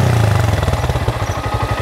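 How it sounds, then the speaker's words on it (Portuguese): A motorcycle pulls away as a beginner eases out the clutch, its engine chugging loudly and steadily at low revs with a pulsing, slightly clattering rhythm throughout. "Arrancou, tá vendo? Arrancou a moto."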